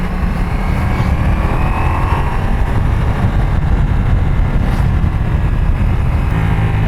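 A Ducati Multistrada V4S motorcycle engine braking into a corner on an Alpine road, a loud steady engine drone mixed with strong wind rush throughout.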